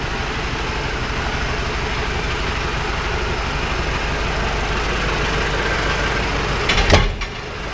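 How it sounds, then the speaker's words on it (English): A heavy-duty tractor engine idles with a steady, low diesel rumble and a constant drone close by, then a short clunk and rattle near the end. "It's just sitting there idling now."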